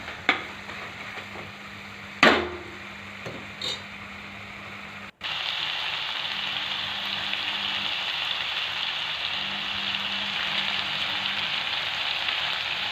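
Prawns cooking in a covered pan for prawn pulao, giving a steady, close sizzle and hiss that fills the second half, after a few brief clinks and knocks at the start; no one talks.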